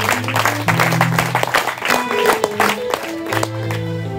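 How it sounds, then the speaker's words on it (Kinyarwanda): A church audience claps for the men attending the gathering. The applause is dense and scattered at close range, with a voice talking through the clapping and rising and falling over it. "Abagabo baje mu materaniro uyu munsi mubampera amashyi"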